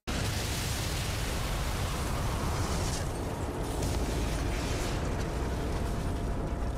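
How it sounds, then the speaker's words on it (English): Heavy continuous rumbling roar of a building collapsing in a video game, a dense, loud crumbling wash that holds steady throughout with no talk. "watch the entire building collapse"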